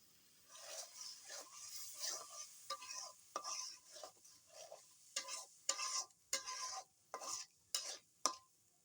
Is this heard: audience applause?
no